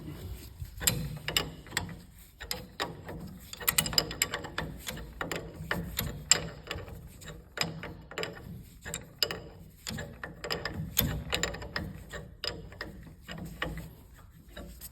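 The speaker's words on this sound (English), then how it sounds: "Take a little tension off the spring so it locks it down. And tighten our nut." A ratchet tightens the nut on a 2024 Toyota Tundra strut during leveling kit installation, giving rapid, steady clicking strokes in repeated bursts, close and alone without talk.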